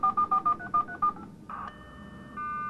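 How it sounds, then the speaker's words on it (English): A modem dials a telephone number with a quick run of DTMF beeps in steady rhythm, followed by a line tone that shifts pitch and holds steadily, loud and close with no voices. "Now it's starting to dial."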